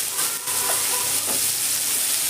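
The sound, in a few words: potatoes with salt and turmeric frying in oil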